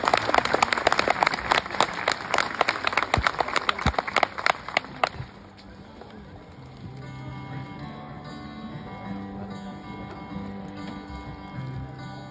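An audience at a sea lion demonstration at La Flèche zoo claps loudly and quickly for about five seconds. The applause then stops abruptly, leaving softer background sound and some voices.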